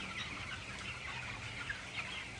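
Broiler chickens about 21 days old and over a kilogram each cluck and chatter as a dense, steady flock murmur filling a poultry shed, with no talk.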